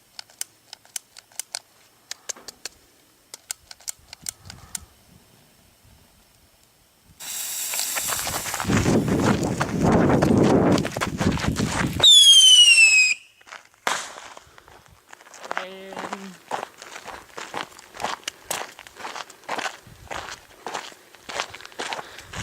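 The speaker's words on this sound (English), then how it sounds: "These are Master Missiles, part of my sister's fireworks. They're kind of like bottle rockets" Master Missiles, bottle rocket-like fireworks at a nighttime fireworks show: sparse faint pops, then a loud hissing launch burst ending in a rising shriek, followed by scattered crackles and bangs at moderate distance.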